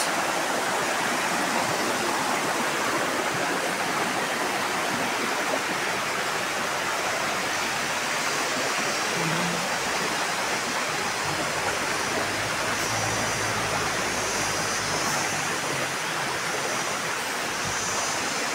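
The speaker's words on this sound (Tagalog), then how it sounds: "Sarap pakinggan ng agos." A clear freshwater stream rushes past in a steady, loud, unbroken gurgle and hiss that fills the whole stretch, with no voices over it.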